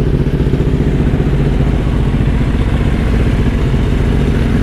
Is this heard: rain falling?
no